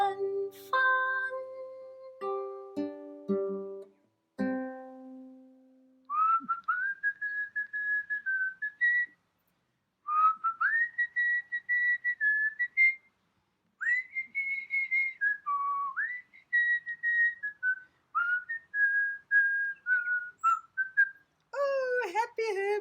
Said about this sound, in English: you are whistling so nicely